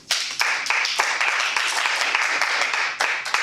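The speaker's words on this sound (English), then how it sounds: "We do a lot of clapping" Audience at a Toastmasters meeting clapping steadily and briskly, a close, loud patter of many hands with sharp individual claps standing out, no voices over it.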